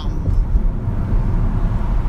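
A car drives down a highway exit ramp with a 35 mph limit after a 55 mph stretch, its steady low road and engine rumble continuous and close throughout.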